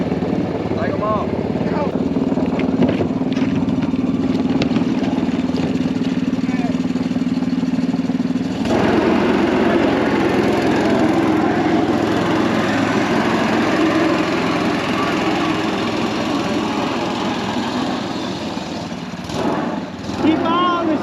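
A mini jet boat's 212cc small engine drones steadily and loudly out on a river, a constant close buzzing hum that shifts slightly in pitch partway through, with people talking over it.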